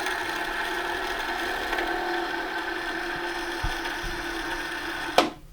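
A sewing machine zigzag stitches along the seam of a vintage tailored coat, giving a steady, even motor hum that ends with a sharp click.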